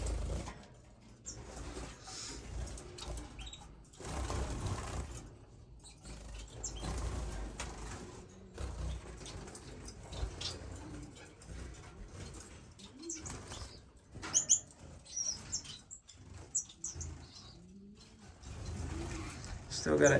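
Society finches fluttering in a bird room, soft wing flaps and faint chirps coming in short irregular bursts over quiet room background.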